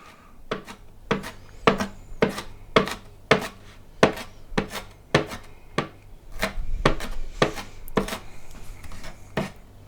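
A knife chopping an onion on a board in a steady, fairly quick rhythm of sharp close knocks, about twenty strokes with a brief busier stretch near the middle, no voices.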